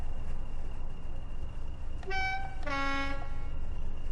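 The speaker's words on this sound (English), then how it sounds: "Test the horns." Two train horn blasts from a locomotive in Train Sim World 5: a short tone, then a longer, louder multi-note blast, sounding over a steady low engine rumble.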